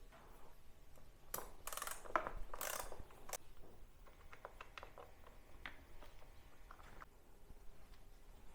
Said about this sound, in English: With a T45 Torx bit, you're going to want to undo